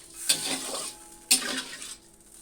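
Utensil stirring boiled heron meat in a pot of water, two short scraping strokes with soft bubbling between, close and fairly quiet.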